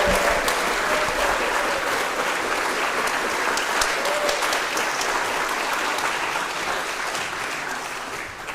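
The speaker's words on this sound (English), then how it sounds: "One more round of applause for our new members." Sustained audience applause for new members at a service led by Rev. Kate, even and continuous for several seconds and tapering slightly toward the end.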